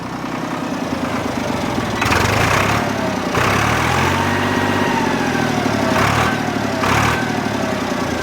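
A motorbike engine running rough and sputtering, a close continuous mechanical chug with several bursts where it revs up harder before dropping back to a choppy idle.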